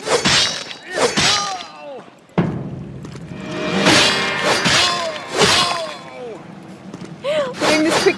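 Katana strikes land in Vampire the Masquerade Bloodlines, several sharp slashing impacts spread over a few seconds, mixed with close, pained grunts and cries.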